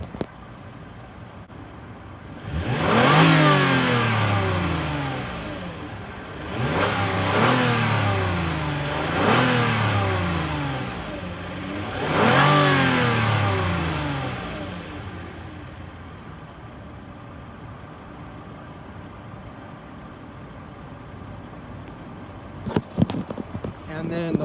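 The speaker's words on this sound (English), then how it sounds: "And there is a lot of exhaust noises, so excuse them." Toyota 2GR-FE V6 revved repeatedly, three strong climbing and falling revs with loud exhaust roar, then settling to a steady idle with a few faint clicks near the end.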